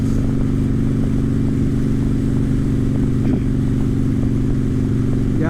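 Steady engine drone from a Harley-Davidson Sportster being ridden on a road through Orangeville, Texas, a constant loud rumble with wind and road noise and no speech.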